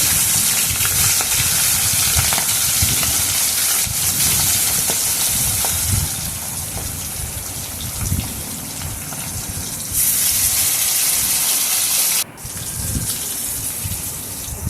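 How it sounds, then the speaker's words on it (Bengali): Hilsa fish frying in hot oil in a wok, with a little salt added to the oil, gives a loud, steady, hissing sizzle that runs unbroken for the whole stretch, with no voices. "মাছগুলো ভেজে নেওয়া হয়ে গেছে।"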